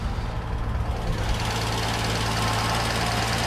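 A carburetted Jaguar XJ6 engine runs just after a cold start, a steady loud idle with an even low throb and broadband exhaust hiss, close and continuous, with blustery wind outdoors and no talking.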